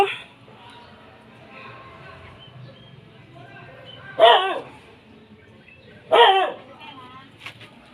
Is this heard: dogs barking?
yes